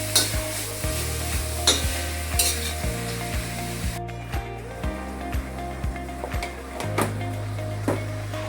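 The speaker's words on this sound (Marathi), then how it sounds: "गूळ वितळेपर्यंत एक मिक्स होईपर्यंत हलवायचे।" Jaggery modak filling is stirred in a pan over low heat, with repeated scraping strokes and a soft sizzle in a steady rhythm, close up with no talking.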